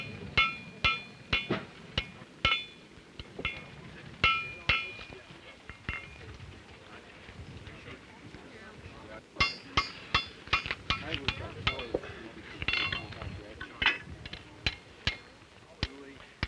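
A blacksmith's hammer striking hot iron while forging scarfs, sharp ringing blows in irregular bursts with pauses, close and clear, with faint talk in the background.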